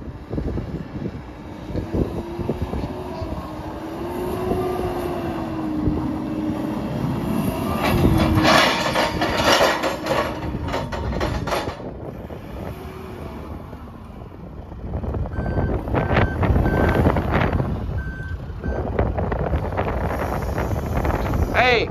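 A Genie GTH-2506 telehandler drives across a construction yard, its engine a rising and falling drone with rumbling movement and wind noise; someone talks over it.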